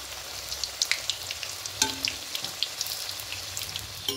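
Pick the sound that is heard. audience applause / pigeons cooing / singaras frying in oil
singaras frying in oil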